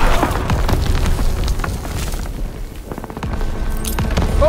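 Grenade blasts and heavy gunfire on Normandy Beach in Call of Duty WWII, a dense, loud, continuous battle rumble with repeated booms and crackling shots throughout.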